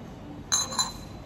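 A small glass container clinks twice in quick succession, two bright close ringing taps over a quiet room background.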